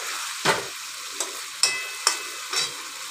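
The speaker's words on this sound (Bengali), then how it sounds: "এই দেখো মাংসতে যে আলুটা ভাজা ছিল দিয়ে দিলাম, এবারে আবার কষাচ্ছি" Chicken and fried potato pieces are stir-fried in a pan over a steady sizzle, with five sharp scraping stirs of the spatula at roughly half-second intervals, close and distinct.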